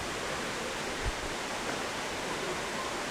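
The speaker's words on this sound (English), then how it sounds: "You just see the main two waterfalls there." Indoor waterfalls at the Eden Project pour into a lily pool, making a steady, even rush of falling water that fills the space at a moderate level.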